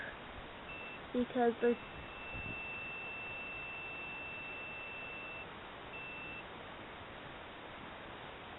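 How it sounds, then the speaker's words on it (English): A multimeter gives short continuity beeps as its probes touch metal coins. Three brief, faint electronic tones come in quick succession over a quiet hiss, and a voice speaks briefly. "then it will beep"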